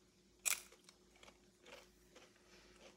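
A crisp bite into a Dollar Tree taco shell snaps loudly up close, followed by several softer crunching chews spread over a few seconds.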